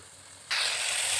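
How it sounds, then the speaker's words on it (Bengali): Sour yogurt hits hot oil with a little ghee in a pan while cooking a Bengali eggplant dish, bursting into a sudden loud, steady sizzling hiss after a quiet start. "দিয়ে দেবো এক চামচ টক দই দিয়ে একটু গরম তেলের মধ্যে নাড়াচাড়া করে নেবে"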